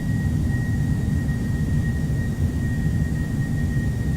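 Simulated Boeing 757 engines in X-Plane 11 produce a constant, heavy jet rumble with a faint high whine during the climb, steady and loud without any speech.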